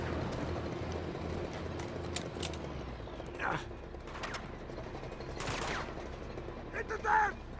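Sharp gunshots ring out in the action game Uncharted 2 against a busy game mix of mechanical clatter and music, with a couple of distinct cracks standing out and speech low underneath.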